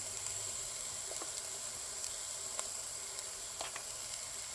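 Onions sauté quietly in a pan for an anchovy coconut roast, giving a faint, steady sizzle with scattered soft crackles and pops, heard alone without talk.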